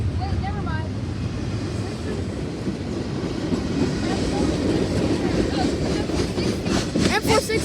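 CSX freight train M416 rolling past at Gaithersburg, a steady broadband rumble with faint wheel clatter and wind buffeting the microphone, while people talk excitedly over it.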